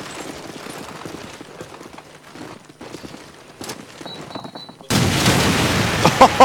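A grenade explodes during a competitive shooter match, gunfire and footsteps rattling at moderate level before a sudden loud burst of blast noise that stays dense, with faint voices underneath.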